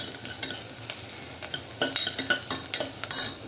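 Green chili, garlic and ginger frying in a pan for drumstick sambar, a steady close sizzle broken by sharp scraping stirs that grow busier toward the end, with no voices.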